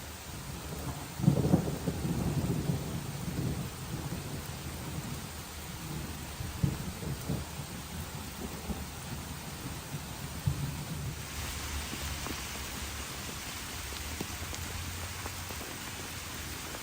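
Steady rain falls over a garden while deep rolls of thunder rumble through, one loud crack early and softer distant grumbles after, with a continuous hiss of rainfall throughout.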